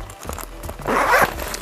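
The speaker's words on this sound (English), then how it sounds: "And then it also has a zipper compartment." A zipper is drawn along a compartment of a hanging travel organizer, a quick close rasping pull lasting under a second amid light handling noise.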